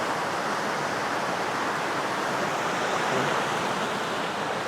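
Water rushes down the stepped rocks of Pari Falls in Doña Remedios Trinidad, Bulacan, a loud, steady, broadband roar that holds unchanged throughout with no voices.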